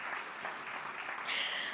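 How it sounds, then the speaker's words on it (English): A crowd at a national sports awards ceremony in Namibia claps together, a brief wash of distant applause that swells slightly toward the end, with no talk over it. "Another round of applause for our sponsors, please."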